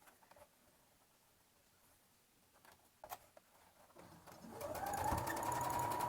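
A sewing machine runs a straight seam around a fabric Easter bunny's overalls, the whirring stitching building loud and steady in the final two seconds after quieter handling rustles and a few soft taps.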